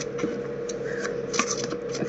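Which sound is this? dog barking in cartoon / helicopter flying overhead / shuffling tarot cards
shuffling tarot cards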